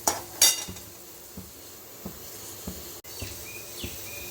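A metal spatula scraping and tapping in a pan as ingredients roast for pavakkai pitlai, a bitter gourd dish, giving sparse, irregular clinks and scrapes over a quiet, faint sizzle.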